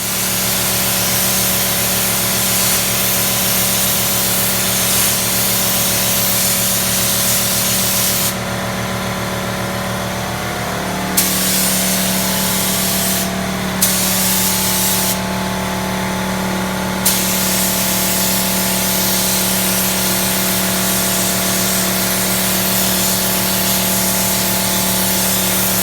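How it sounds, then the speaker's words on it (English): Spray gun shooting high-build primer over rusted rocker panels, a steady loud hiss running continuously alone with slight changes in tone as the gun moves. "we're gonna put it into the cup with the spray gun and shoot this off"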